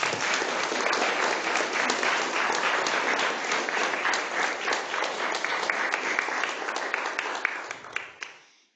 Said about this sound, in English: give a round of applause for all the organizers